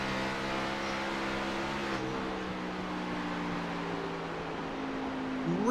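A stock-car engine in an iRacing Xfinity Series race at Dover drones steadily at high revs, its tone sliding slowly downward as the throttle eases, then rising again at the very end, with no voices.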